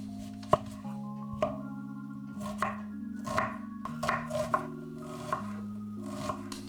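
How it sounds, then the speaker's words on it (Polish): A knife dices an onion steadily on a cutting board, quick irregular taps close up, with no talking. "Cebulę pokroję sobie w kostkę."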